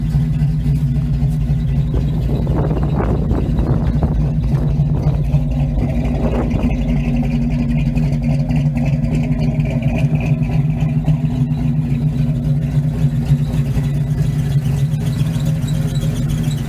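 A 1971 Chevy C10 truck engine runs steadily while driving, giving a loud, constant low rumble with a smooth droning tone and a few brief rising revs early on, heard alone without talk.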